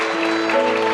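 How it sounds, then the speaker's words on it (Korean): Wedding guests in a banquet hall clap in a brief steady burst, with a sustained musical tone behind the applause. "뜨거운 축하의 박수 부탁드리겠습니다."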